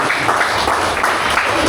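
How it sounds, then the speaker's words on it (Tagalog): A brief burst of clapping from a church congregation, a dense, hissy wash of many hands with no gaps, heard at moderate volume. "Kaya pumalakpak po kayo kay Lord."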